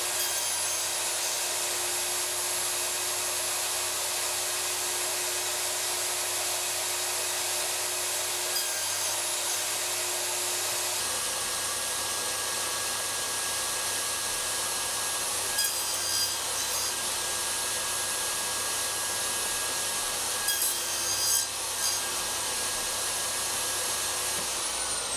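Table saw cutting box joints in wood with a box joint jig, a steady loud whining roar that continues unbroken, with slight shifts in tone as the blade passes through the workpiece, close and alone.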